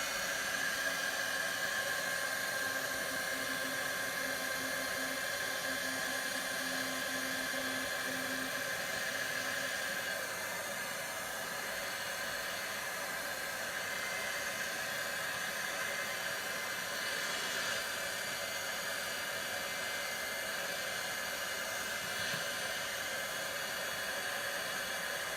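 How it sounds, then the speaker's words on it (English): A heat tool blows a steady, loud hiss of hot air without a break, heat-setting ink on a handmade Christmas card. "let's heat set this one more time"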